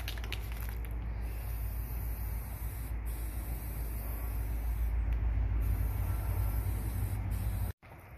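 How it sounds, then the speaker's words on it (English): A steady aerosol hiss from a spray paint can repainting Honda CR-V side moldings runs continuously for several seconds, then cuts off abruptly near the end before resuming briefly. "So we are using spray paint."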